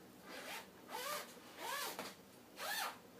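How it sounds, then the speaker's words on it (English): A zipper on a wool baby sleep sack is pulled in three quick strokes, close and fairly soft, with short pauses between each pull. "And then the zipper"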